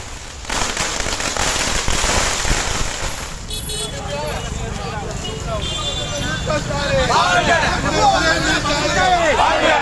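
Firecrackers crackle in rapid bursts at an election victory celebration in Tamil Nadu, loud and continuous, over crowd hubbub and street noise, with cheering voices rising later.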